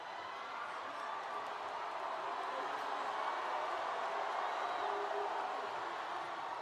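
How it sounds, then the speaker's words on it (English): Arena crowd roaring in a steady, loud wash of cheers after a made basket at an international men's basketball game, Gilas Pilipinas versus Qatar in Doha, with no clear peaks, just sustained noise throughout. "It goes in and the crowd goes wild"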